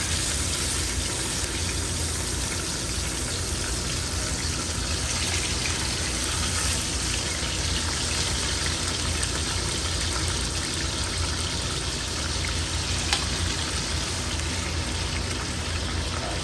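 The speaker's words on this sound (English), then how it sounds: "Look at that sizzle." Pork chops sizzle in a hot pan with a loud, steady hiss that carries on evenly and unbroken throughout, with no voices over it.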